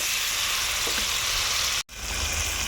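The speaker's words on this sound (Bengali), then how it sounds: "চিংড়ি মাছগুলো আমার ভাজা হয়ে গেল" Prawns seasoned with salt, turmeric and a little chili sizzle steadily in hot oil in a pan, a dense continuous frying hiss broken by one brief dropout near the end.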